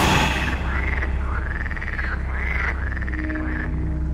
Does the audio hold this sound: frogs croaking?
yes